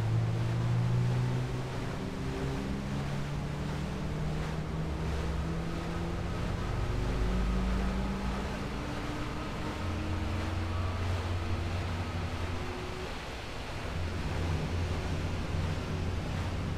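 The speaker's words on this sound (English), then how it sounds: "Now that both engines are running," Twin aircraft engines running on a carrier deck in Flight Simulator X, a steady low drone with a broad windy, sea-like wash and rising harmonic whine bands, continuous and fairly loud throughout.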